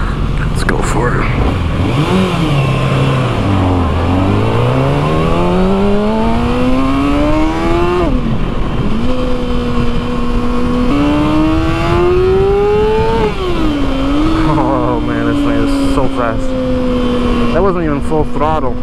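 A Kawasaki motorcycle on a demo ride in Orlando, Florida, accelerates hard, its engine pitch climbing through several gears in rising sweeps, with a rider talking over it.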